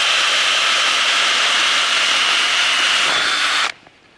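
A drill bores through frozen lake ice in a loud, steady hiss-like whir that stops abruptly near the end, leaving near silence.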